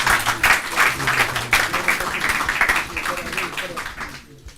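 Lively applause from an audience at a formal event honouring Pakistani officials, with clapping rising and falling in bursts before it fades out at the end.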